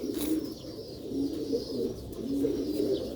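A pigeon coos close by in soft, repeated low throaty phrases, several in a row with brief pauses, over a faint background hum.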